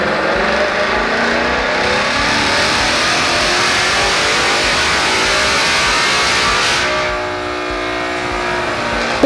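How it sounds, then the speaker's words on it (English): A 2024-2026 S650 Mustang GT fitted with a Whipple Crusher intake revs hard and holds high, a loud sustained engine roar with intake noise that eases slightly near the end, with no talk. "It's the all-new Crusher intake kit from Whipple Superchargers, the most advanced bolt-on intake kit that you can get for your S650 Mustang."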